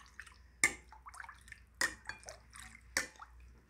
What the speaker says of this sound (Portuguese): Mexendo aqui com a colherzinha aqui